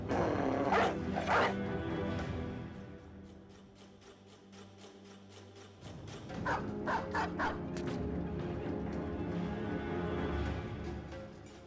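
War dogs attacking in the video game Battle Brothers, a burst of snarling, barking and rapid ripping bites, pausing briefly and then resuming in harsh repeated snaps and growls.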